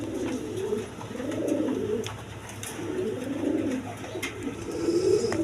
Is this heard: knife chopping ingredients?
no